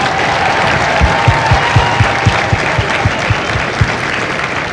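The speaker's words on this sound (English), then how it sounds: "Would you join me in a final round of applause for the Marines who make Marines" A crowd applauds the drill instructors of Golf Company at a Marine Corps Recruit Depot San Diego graduation ceremony, steady loud clapping from a large outdoor audience with a few sharper nearby claps standing out.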